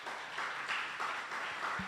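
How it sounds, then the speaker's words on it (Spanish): Broad, steady applause from a church congregation, rising and falling slightly in waves, fairly loud and continuous with no talking over it. "Denle un aplauso fuerte al Señor."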